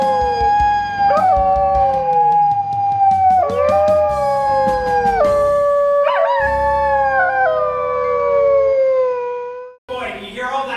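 Voices imitate dingoes in a staged skit, rising and falling howls layered over one another with yips and sliding tones, loud and close, going on for about ten seconds before a short burst of other noise at the end.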